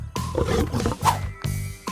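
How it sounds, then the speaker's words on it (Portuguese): A lion roars in several loud, deep bursts separated by short pauses, heavy and close, with no talk over it. "Eu conheço esse som. Logo depois, ele vê um grupo de leões com seus filhotes."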